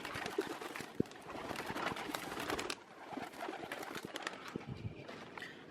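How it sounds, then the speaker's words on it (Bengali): Pigeons let out of their coop, with soft cooing and fluttering wingbeats close by, a sharp knock near the start and light shuffling throughout. "কবুতরগুলোকে বের করে দিব।"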